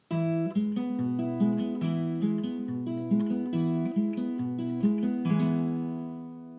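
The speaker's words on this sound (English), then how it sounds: "we're ready to try our Travis finger picking pattern." A solo acoustic guitar plays Travis fingerpicking on a song, the thumb alternating a steady bass line under plucked treble notes, clear and close with no voices.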